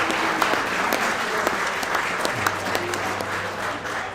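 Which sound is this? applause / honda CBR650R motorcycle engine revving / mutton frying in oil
applause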